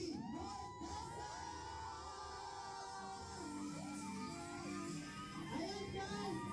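A large audience at a live fan event cheers, whoops and yells continuously to welcome actress Barbie Forteza, with high shouts rising and falling over a steady crowd roar.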